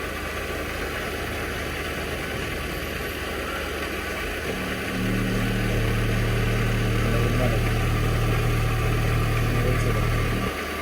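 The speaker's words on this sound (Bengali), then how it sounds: "দেখি ইঞ্জিনের কি অবস্থা" The engine of a used car idles with a steady low hum during an inspection in Ramganj, growing louder and heavier about halfway through, with faint voices in the background.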